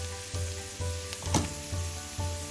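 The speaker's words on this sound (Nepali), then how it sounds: "अब 1-2 मिनट जति यसलाई यसरी भुट्दै पकाउँ।" Egg and beaten rice with vegetables, including green capsicum, fry in a pan with a steady close sizzle, punctuated by a few louder bursts as the mix is stirred.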